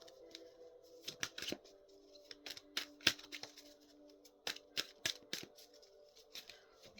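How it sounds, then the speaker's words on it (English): Tarot cards being shuffled and drawn from a deck in a series of sharp, crisp snaps and riffles, close and fairly quiet, over a faint steady background hum. "we're going to draw one more card and close up this reading"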